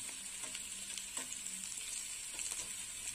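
Ground poppy seed paste sautéed in a pan for a potato and pointed gourd vegetarian curry: a steady, fairly quiet hiss of frying with soft scraping stirs scattered throughout, no voices.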